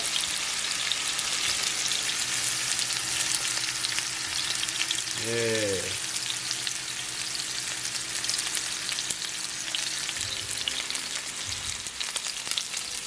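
Well-seasoned T-bone steak searing in a smoking-hot pan gives a loud, steady sizzle throughout, and a voice speaks briefly over it.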